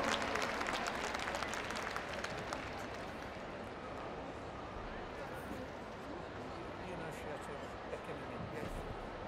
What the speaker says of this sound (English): Round of applause then